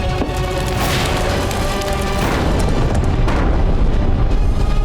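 Dramatized cannon shells fired at Mughal troops in battle, heard as loud, continuous booming blasts with rumbling crashes layered over one another, with no pauses between them.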